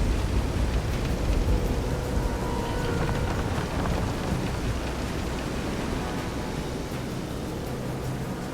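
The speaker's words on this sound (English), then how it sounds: "This is some storm." Storm at sea in the video game Visions of Mana: steady heavy rain hiss with low rumbling thunder and wind, loud and continuous, slowly easing toward the end with no talk.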